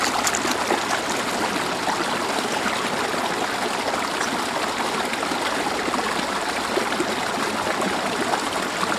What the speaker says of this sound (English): And then I'll rinse them occasionally.